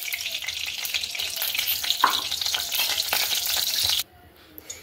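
Oil sizzles loudly in a wok before pointed gourd goes in, a bright continuous crackle with a few spoon taps, then it suddenly drops to near quiet with faint clinks.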